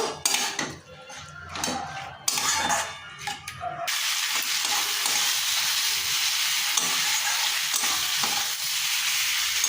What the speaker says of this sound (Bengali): মশলার সাথে খুব ভালো করে আমি কষে নিয়েছি